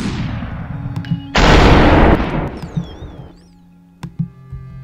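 A single heavy gunshot blast in the video game Superhot, loud and close with a booming tail that fades over about two seconds, followed by faint electronic tones and clicks.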